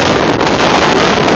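Heavy wind buffets the microphone, producing a loud, continuous roaring rumble with no other sounds.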